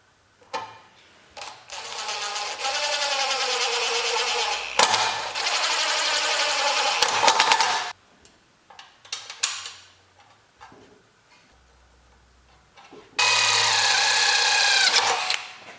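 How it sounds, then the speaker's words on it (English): A power drill whines in long bursts while drilling a hole in sheet metal, its pitch shifting under load, with clicks and handling noise between runs and a final burst. "I need to drill this hole here"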